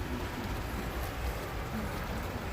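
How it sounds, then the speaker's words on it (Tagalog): Steady rain pours down during a thunderstorm on the fourteenth day of Ramadan, a dense continuous hiss with no break, heard outdoors at moderate distance. "umuhos na ang ulan."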